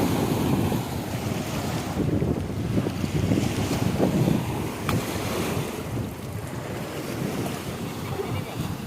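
Heavy high-tide sea surf at Ichhakhali rolls in continuously, a loud broadband wash of breaking waves mixed with gusty wind buffeting the microphone, with no voices in the gap.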